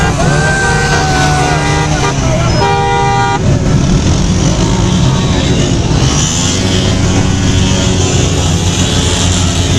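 Motorcycles and cars pass loudly in a large political rally procession on a village road in Dera Ismail Khan, with horns tooting repeatedly and engines droning continuously throughout.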